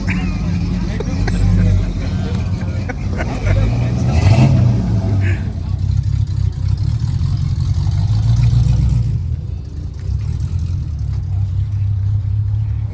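A small Nissan car engine with side-draft carburetors rumbles and revs up and down nearby while people talk and chatter over it, steady and loud throughout.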